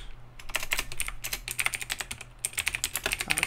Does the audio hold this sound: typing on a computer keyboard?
yes